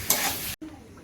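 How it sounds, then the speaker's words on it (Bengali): Ghugni sizzling in mutton fat in a home kitchen, a loud close frying hiss with stirring for half a second, then a brief cut and a quieter simmering hiss. "এটা ঘুগনি হচ্ছে মাটনের চর্বি দিয়ে।"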